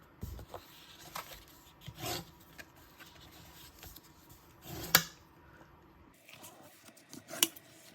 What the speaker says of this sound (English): next you're gonna just fold and burnish it at the score lines